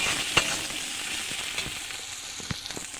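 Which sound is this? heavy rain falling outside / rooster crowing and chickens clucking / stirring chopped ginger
stirring chopped ginger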